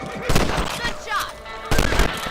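A few sharp gunshots from a revolver or rifle in the Western video game Red Dead Redemption, two distinct bursts with an echoing tail, heard alongside game dialogue and speech.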